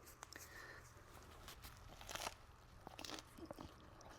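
Crunchy bites and chewing on cooked hybrid striped bass, a string of quiet, close crackles and soft taps, louder around the middle, with no talk.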